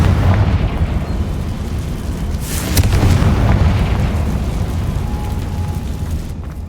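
A Confringo spell explosion in Hogwarts Legacy, a loud, deep rumbling blast that swells and rolls on for several seconds, then slowly fades, with no voices over it.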